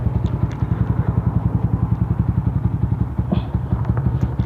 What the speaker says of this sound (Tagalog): Yung magte-testing tayo ng motor dito ngayon.